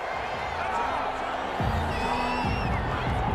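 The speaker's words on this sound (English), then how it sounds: "Well, the crowd doesn't like that." Simulated stadium crowd in Madden NFL 21 football game reacting with a steady, loud, dense roar of disapproval, rising in swells, with game sound effects mixed in.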